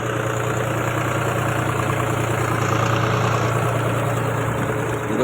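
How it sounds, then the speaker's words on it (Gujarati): A tractor engine idles steadily in a potato field, a loud, even mid-low rumble with vibration that holds unbroken throughout, no talk over it. "આ બાજુ ટ્રેક્ટર ચાલુ છે"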